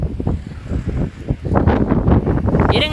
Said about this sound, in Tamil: காற்று ரொம்ப ஹெவியாக அடிக்குதுங்க